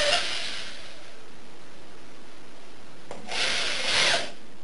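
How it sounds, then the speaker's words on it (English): A slow-speed drill bores pilot holes into the plastic casing of a sealed lead-acid car battery, giving two separate bursts of grinding, whirring noise with quiet handling sounds between them. "now that we've drilled the pilot holes"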